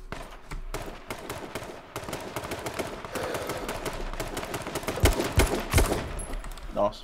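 Rapid gunfire in the battle royale game H1Z1, steady bursts of shots at moderate loudness with a few louder close cracks near the end, under faint game ambience.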